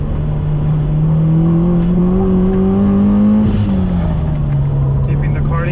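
A Subaru WRX STI engine is driven hard on a track, its loud, continuous drone rising under full throttle, then dropping sharply as the driver lifts, before settling into a lower hum.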